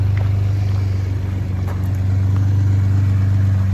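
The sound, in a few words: Ford F150 with Garrett Powermax turbo and MBRP exhaust, cold start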